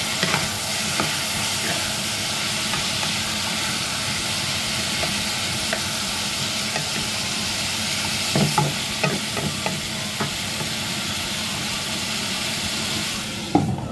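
Chicken feet being stir-fried in a pan and stirred, a steady sizzling hiss with scraping and clattering stirs becoming busier near the end, heard up close with no talking.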